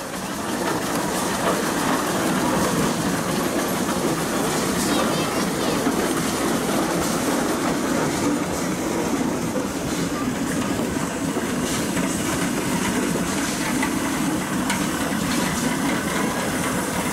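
An 1870 Gar Scott steam traction engine rolls past in a parade, a steady, dense mechanical rumble and clatter holding loud and even throughout with no clear pauses.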